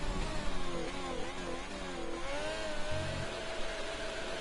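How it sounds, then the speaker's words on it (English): Formula 1 race car engine in a video game, British Grand Prix, held high in the revs with steady harmonic whine that rises and falls slightly, continuous and fairly loud throughout. "High in the revs, trying to burn some fuel probably."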